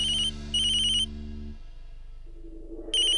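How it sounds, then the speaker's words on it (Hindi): A telephone ringtone chirps in two short electronic bursts, then a gap with a low tone, then starts again, loud and close, with no talk. "कुंदन भाई साहब का फोन है"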